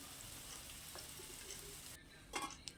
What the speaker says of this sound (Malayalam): ഈ വെളുത്തുള്ളി ഒരു രണ്ട് മൂന്നല്ലി തൊലി കളഞ്ഞ് വെച്ചിട്ടുണ്ട് അതും കൂടി ഇട്ടിട്ട് നന്നായിട്ട് വഴറ്റി